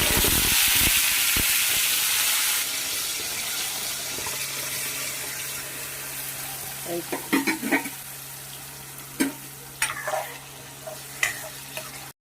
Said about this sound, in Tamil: கடுகு பொரியுது, வெந்தயம் போட்டு இப்போ அரைச்ச விழுதை அதில் போட்டு